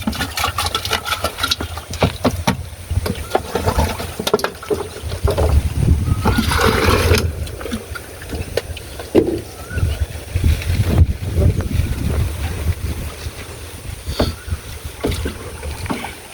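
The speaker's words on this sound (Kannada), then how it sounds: "ಇದನ್ನ 200 ಲೀಟ್ರ್ ನೀರಿಗೆ ಮಿಕ್ಸ್ ಮಾಡ್ಕೊತಿದ್ದೀನಿ" Banana fertilizer is stirred by hand into 200 litres of water, giving continuous sloshing, splashing and swirling that stays close and fairly loud, with scattered knocks against the container.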